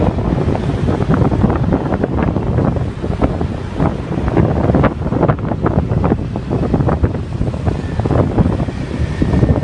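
Steady, loud wind buffeting a microphone throughout a motorbike ride in Thailand, a continuous roaring rush with no talking.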